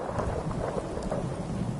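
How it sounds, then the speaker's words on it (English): Steady rainfall in the game Fallout 4, a dense, even hiss with a low rumble of thunder beneath, no voices. "Just thinking how wonderful it'd be to get out of this infernal rain"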